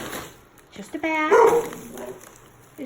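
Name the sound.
dog barking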